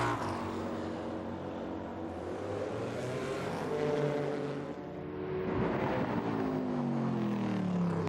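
Audi race cars lapping at the Le Mans 24 Hours in 2000, a loud continuous engine roar with rising and falling pitch as cars pass and accelerate, no talk.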